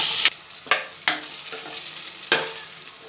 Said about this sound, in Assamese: কেৰাহীত ভাজি ল'ম।